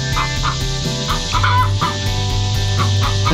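Hens cluck in a barnyard, one fussing loudly because another occupies her laying spot; repeated squawking clucks sound over a steady tonal background, close and busy.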